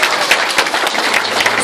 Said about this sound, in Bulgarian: скъпи гости, аплодисменти за кума и неговите тежки житейски ситуации